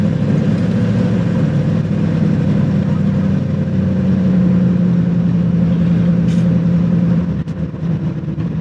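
A 1963 Studebaker Avanti being driven on local streets, its engine giving a steady, loud, low droning rumble with a faint rising note, close and continuous with no talking.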